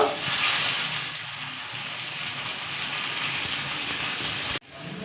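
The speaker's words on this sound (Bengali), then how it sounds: "লাল লাল করে ভেজে নিয়েছি এবার আমি তুলে নিচ্ছি একটু তেলটাকে ঝরিয়ে নিচ্ছি" Taro leaf and moong dal fritters frying in hot oil give a steady, close sizzle that runs alone and unbroken, then cuts off abruptly near the end.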